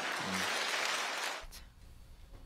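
A burst of applause from a television studio audience, dense and steady, then it drops off abruptly partway through, leaving a quiet room.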